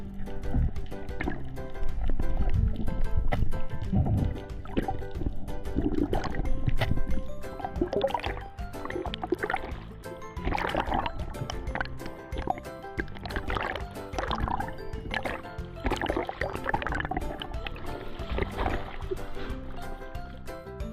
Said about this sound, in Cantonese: 隻船啱啱駛埋嚟